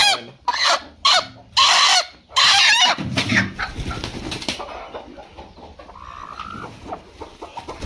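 Loud village chicken squawks and clucks in bursts at the start as the hens, including broody hens, are let out for deworming, then a busy mix of quieter clucking and chatter from several birds nearby.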